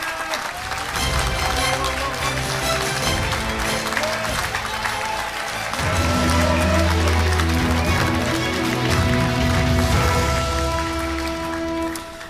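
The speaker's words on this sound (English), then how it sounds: "Let's give another round of applause" Audience at a Korean peace conference in Washington, D.C. gives a full round of applause, dense continuous clapping with music swelling underneath midway, loud and steady throughout.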